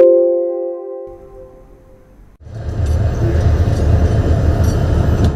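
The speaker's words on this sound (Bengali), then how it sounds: "স্টেশন ছেড়ে যাচ্ছে ট্রেন" A train pulls out of Kamalapur railway station, a low rumbling roar rising after a brief tonal horn-like hum and quiet pause, continuing steadily with faint clanks.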